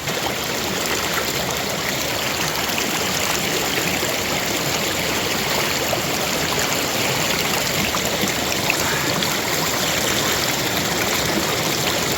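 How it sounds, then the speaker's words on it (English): Flowing stream water in Path of the Titan, a steady, dense rushing wash heard close and loud, unbroken throughout with no talking. "This is the water that probably goes down to my waterfall down there we passed earlier"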